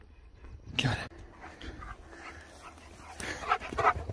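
A husky whimpers and yips close by, short high whines in two clusters with a quieter gap between, no talking.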